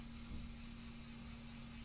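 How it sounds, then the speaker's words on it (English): Pixie spray mists steadily from a can in one continuous, close hiss, with no break and a faint low hum underneath. "We're going to use pixie spray for all these"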